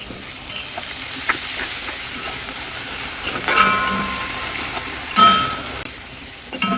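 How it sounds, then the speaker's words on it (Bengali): Onions and garlic sizzle in a hot pan, a continuous close frying hiss with occasional louder crackles and stirring scrapes. "এবার পেঁয়াজ রসুনগুলো দিয়ে দিলাম।"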